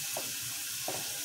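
Vegetables fry in hot oil while Ghee Rice with Vegetable Kurma is being cooked, a steady, faint hissing sizzle with two soft stirring scrapes, heard alone without talk.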